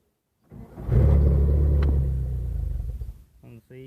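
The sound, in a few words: Toyota engine cranking and briefly starting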